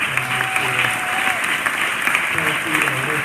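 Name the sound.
applause for the organizers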